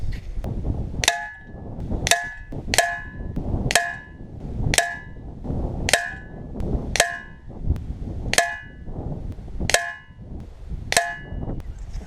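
A Genesis Air Logic .22 single-stroke pneumatic air rifle with a leaking valve fires about ten shots at a steady pace. Each one is a sharp metallic clang with a brief ringing tone.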